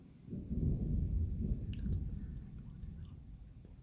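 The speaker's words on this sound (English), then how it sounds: "Another big storm I'm recording." Deep, sustained rumbling thunder rolls through a nighttime thunderstorm, loud and low for most of the clip before slowly easing, with faint crackles on top.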